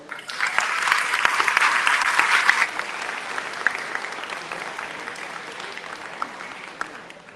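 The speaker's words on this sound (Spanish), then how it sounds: "Fuerte el aplauso" A burst of applause from an academic panel audience, loud at first and then gradually thinning out while clapping continues.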